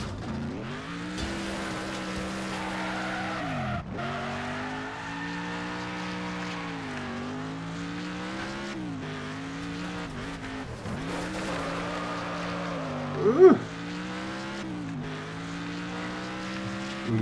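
A car engine revs and wavers steadily throughout a drift in Next Car Game, with a brief louder screech of tire skid near the end.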